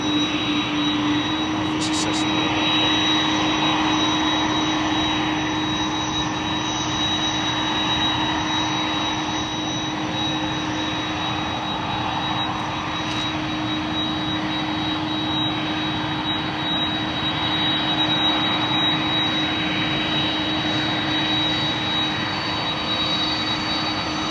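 A Cessna Caravan turboprop runs steadily at an airport, giving a constant loud roar with a sustained whine. A few faint clicks and brief sharp sounds mix in toward the middle.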